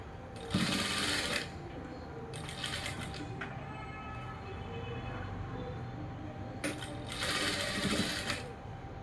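A sewing machine stitches the lining of a blouse in repeated short bursts of fast mechanical whirring, with quieter shuffling and handling of fabric between runs.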